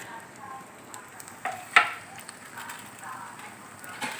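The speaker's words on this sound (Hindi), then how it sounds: "फिर इसको स्लो आंच के ऊपर इसको फ्राई करना" Potato snacks sizzle gently in hot oil over a low flame, with a soft steady crackle and a few louder pops and clinks from stirring.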